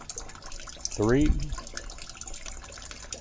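A household hall-bath toilet fills after a flush with a brief rising gurgle and rush of water, close and fairly loud, then settles into a soft steady trickle; a voice speaks briefly.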